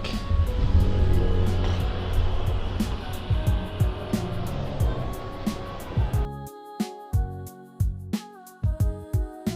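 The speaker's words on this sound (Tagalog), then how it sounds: "So yeah, it's kind of traffic." Road traffic heard from inside a moving ride-hailing car. A low, continuous engine and road rumble gives way to a quieter stretch of steady rhythmic ticking.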